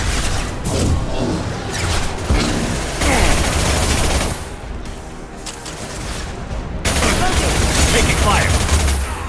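Rapid bursts of gunfire and heavy impacts crash through a firefight in the video game Mass Effect, loud and close, with a brief lull midway before the shooting resumes.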